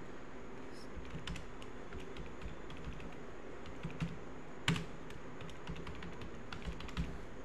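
Keys clatter on a computer keyboard while text is entered in AutoCAD, a quiet run of irregular close taps with one louder keystroke, no speech.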